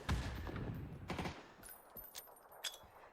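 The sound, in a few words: gunshots in a video game match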